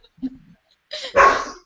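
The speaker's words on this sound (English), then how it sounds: "I don't know why my dog is barking." A dog gives a short, sharp bark, close and loud, after a quieter faint yip.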